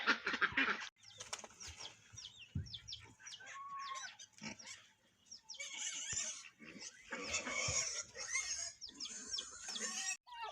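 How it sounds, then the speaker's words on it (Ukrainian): Chicks cheeping and peeping in a poultry yard alongside a small yellow duckling, a busy chorus of many thin high calls, close and fairly loud, with occasional low clucks and soft rustling throughout. "Так кумедно наблюдати за цим всі курчатки і одне каченятко жовтеньке."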